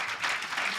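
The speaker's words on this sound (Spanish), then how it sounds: "Vamos a recibirle con un aplauso." Audience applause welcoming a speaker at a Spanish-language talk event: a short, dense burst of many hands clapping at once, steady and fairly loud, with no voices over it.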